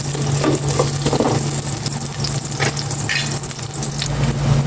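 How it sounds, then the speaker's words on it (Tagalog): Ginger sautéed in olive oil in a home kitchen, with a steady crackling sizzle throughout, occasional stirring clatters and a low continuous hum underneath, no talk. "And igisa ko na po itong luya"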